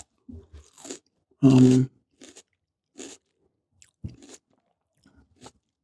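One loud, close crunch as someone bites into a raw red pepper, followed by quieter, sparse mouth and chewing sounds with a few soft, brief voice fragments.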